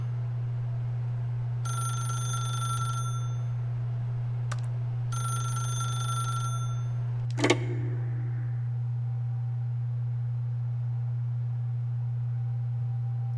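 A telephone rings in The Stanley Parable video game, two long bursts of bright ringing separated by a short gap, then a sharp click as it is picked up, all over a steady low hum with no talk.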